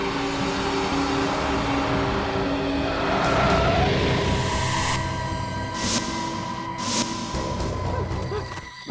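A car overtaking at speed on a road, a loud sustained engine and road roar that swells in the middle and carries on, with a few brief sharp bursts near the end.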